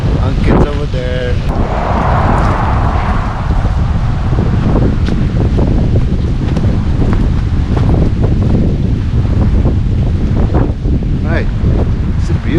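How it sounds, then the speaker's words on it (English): Strong, gusty wind buffets the microphone with a loud, continuous roar during a snowstorm in Yosemite, its gusts flaring and easing throughout. A person talks briefly over it near the start. "It's super windy."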